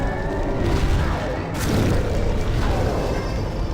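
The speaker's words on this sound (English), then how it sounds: "Everything is an explosion right now." Booming explosions from the video game Demon's Souls, a dense, rumbling wash of blasts that swells and rolls continuously for several seconds, loud and close.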